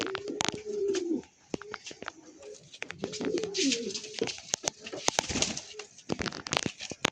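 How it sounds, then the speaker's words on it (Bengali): Lalful Andhra pigeons cooing just after release, with repeated low throaty coos near the listener, rustling feathers and sharp clicks and knocks from handling around them. "দেখুন পায়রা ছেড়ে দিচ্ছি"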